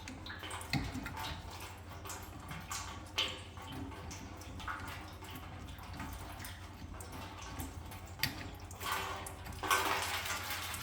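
Fuel dribbles and splashes from a disconnected fuel line on an 1989 Chrysler Conquest, a steady faint trickle with a few louder splatters, nearby and without talk.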